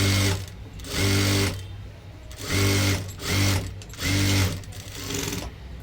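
A sewing machine stitching a blouse runs in four close, loud bursts of rapid whirring, each lasting about a second, with short quiet pauses between them and no talking.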